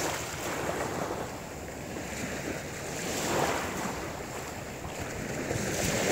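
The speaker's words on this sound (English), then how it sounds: "as we feel these waves coming in and crashing on the shore" Ocean waves roll in and crash on the shore in slow swelling surges, a steady full roar of surf with some wind, close and loud, with no voices.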